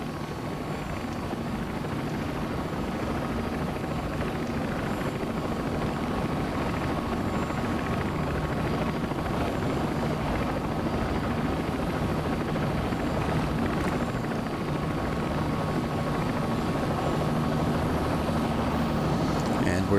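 A simulated Bell 206 helicopter in the CowanSim flight simulator sets down, its rotor and turbine drone a constant, even roar for the whole stretch, with someone talking occasionally over it.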